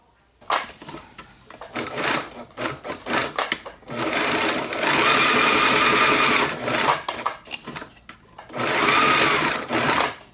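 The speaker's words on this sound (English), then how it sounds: "and then I'll fold in the ends and sew them down" A sewing machine stitches down the folded ends of rubber inner tube strips for a homemade workout sandbag, running close up in several steady whirring bursts separated by short pauses.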